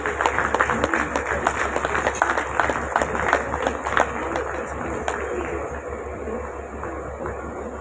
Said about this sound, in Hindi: दोस्तों जोरदार ताली से उनका स्वागत कीजिए